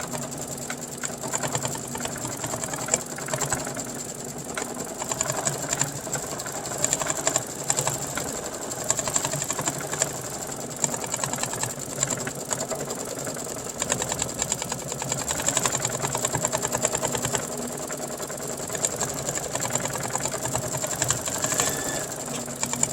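A computerized sewing machine stitches out quilting on fabric for a zippered pouch, a continuous close mechanical whir with a fast, even needle rhythm that runs unbroken and without talk.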